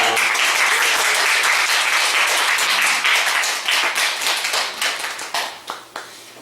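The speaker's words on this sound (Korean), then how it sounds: "우리 큰 박수로 환영해 드리도록 하겠습니다" A church congregation applauds to welcome an elder coming forward at a Sunday service, with loud, dense, steady clapping that thins toward the end into a few scattered, separate claps.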